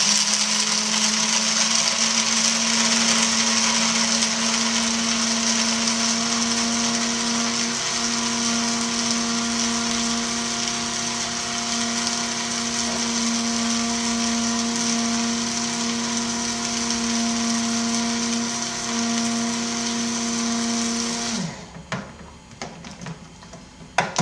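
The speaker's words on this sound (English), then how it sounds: "I'm going to grind the beans in this grinder for 20 seconds" An electric grinder steadily grinds coffee beans to a fine filter grind, a loud continuous whirring drone holding for about twenty seconds before it cuts off and spins down, followed by a few faint handling clicks.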